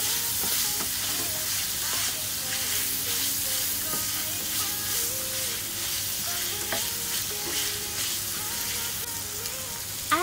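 Beef stroganoff sizzles and fries steadily in a pan, a dense close crackle with occasional scraping stirs and clinks, no voices.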